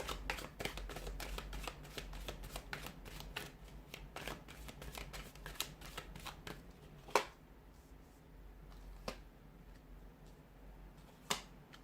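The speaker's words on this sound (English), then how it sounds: "we'll give the cards a shuffle" Playing cards are shuffled repeatedly, with fluttering riffles and sharp snapping clicks as the deck is bridged and tapped, close and fairly quiet.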